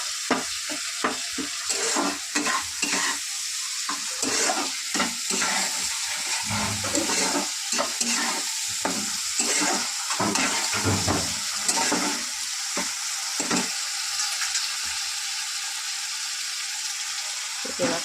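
Potatoes are stir-fried in a pan over a steady loud sizzle, with irregular scraping and stirring strokes of a utensil against the pan close by throughout.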